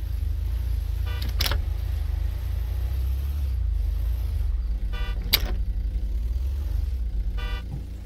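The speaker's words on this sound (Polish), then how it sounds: "Sorry, że tak trąbiłem, mam nadzieję, że nie poludziłaś." A car horn in the video game GTA V toots three separate times over a low, constant engine rumble, with short, bright honks spaced a few seconds apart.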